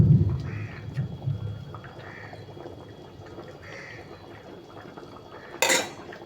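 A lid is set on a pot of soybean muithya simmering in gravy on a gas stove, giving one sharp metallic clatter near the end after a stretch of soft bubbling.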